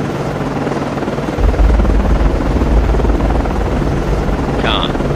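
In the naval submarine game Cold Waters, an ASW helicopter launches from a Perry-class frigate, USS Nicholas FFG-47, its rotor thrumming loud and steady and growing heavier after a second, with a brief electronic chirp near the end.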